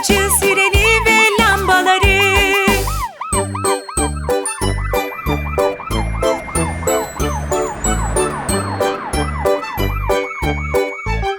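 A loud, repeating toy-like fire engine siren wails in a steady rhythm alongside jingling chimes in a children's song, rising and falling over and over.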